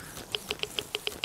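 Rain in the game Zero Sievert, heard as faint, evenly spaced crisp ticks of drops pattering over a quiet background.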